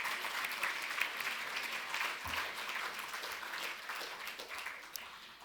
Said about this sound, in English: Shall we give them another round of applause,